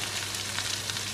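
Sliced onions caramelizing with salt in a frying pan give a steady, close sizzle with soft crackling throughout, no voices.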